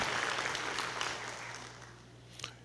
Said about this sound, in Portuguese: nós queremos pedir à igreja que agradeça o irmão Lázaro com uma salva de palmas